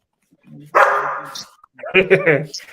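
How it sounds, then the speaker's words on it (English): A dog barks excitedly at home, giving a sustained close bark followed by a cluster of quick yipping barks, loud and with no talking over it. "I got my dog going crazy now."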